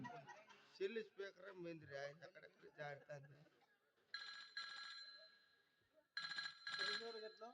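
A person talks, then a telephone rings in two bursts of shrill electronic tone separated by a short gap.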